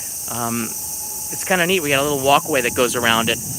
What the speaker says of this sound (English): So you got the cicadas